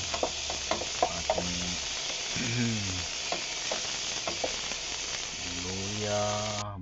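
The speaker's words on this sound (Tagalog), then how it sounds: "At maggigisa na tayo." Garlic, ginger, onion and tomato sautéing in a pan, a continuous sizzle with intermittent stirring clatter, and a voice speaking briefly over it.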